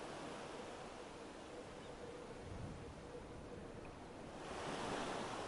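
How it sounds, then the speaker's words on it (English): Ocean surf washes steadily ashore in Final Fantasy XIV, a constant breaking hiss at moderate distance that swells louder near the end, with no voices. "the moment I heard the waves"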